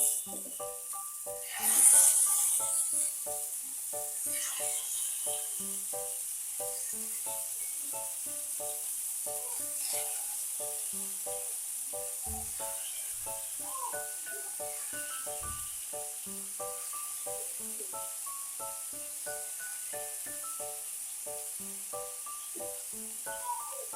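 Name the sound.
chicken malai boti sizzling in hot oil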